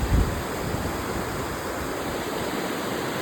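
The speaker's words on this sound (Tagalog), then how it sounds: "Kag kusog sang current sang tubig." Rushing water roars steadily and loudly, a dense wash of churning current with a brief low thump at the start.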